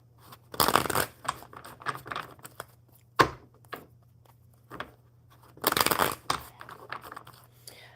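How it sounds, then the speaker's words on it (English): A deck of playing cards is shuffled indoors, giving two loud bursts of riffling and crackling spaced several seconds apart, with softer handling clicks between them over a low steady hum. "Let's get these cards shuffled."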